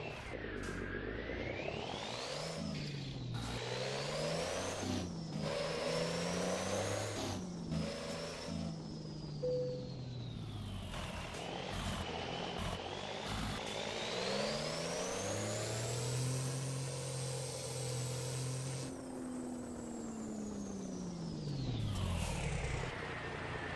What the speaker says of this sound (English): Alright, time to back this trailer in. But I need to spin around first.